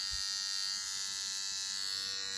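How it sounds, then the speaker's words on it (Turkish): A cheap electric shaver runs steadily with a constant high-pitched buzzing hum, close and fairly quiet, alone without any talking. "Ama gayet güzel bir makine. Tavsiye ederim. İyi tıraş ediyor."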